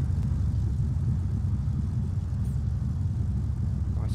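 Steady airliner engine drone at idle as an aircraft rolls to a halt on a runway after landing in Flight Simulator X, a constant low rumble with no voices.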